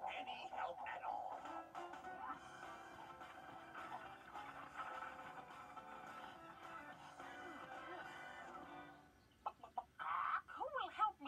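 Hen clucking as a sound effect in a children's show version of the little red hen story, several short clucks standing out near the end, with a soft musical or voice bed underneath.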